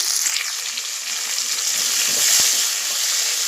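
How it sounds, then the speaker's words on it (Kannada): Tomato and onion fry for bitter gourd sambar, a loud, close, steady sizzle with a few soft stirring bumps and one sharp knock, no voices. "ಟೊಮೆಟೊ ಸಾಫ್ಟ್ ಆಗೋ ತನಕ ಫ್ರೈ ಮಾಡ್ಕೊಳ್ಳಿ"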